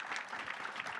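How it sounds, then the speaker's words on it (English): Faint, steady clapping comes from an audience at a panel event on supporting underserved entrepreneurs and small businesses, a brief burst of applause with no talking. "a round of applause, please"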